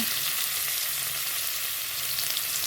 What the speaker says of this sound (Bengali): প্রথমে দেব রসুন দিচ্ছি